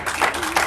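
An audience claps briefly after a poem at a faith and art event, a short patter of applause in a room.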